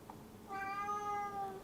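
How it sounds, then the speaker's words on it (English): A house cat gives a single drawn-out meow, clear and fairly close, after a short quiet stretch with faint background noise. "Poor kitty."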